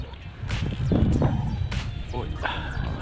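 A quick whooshing swish of a fishing rod cast for pike cuts through gusty wind noise, with brief voice-like sounds in the background.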